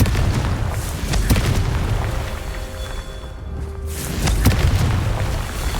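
A Confringo blast spell from Hogwarts Legacy goes off in a loud booming explosion, with a further heavy impact a few seconds later over a continuous rumbling game soundscape.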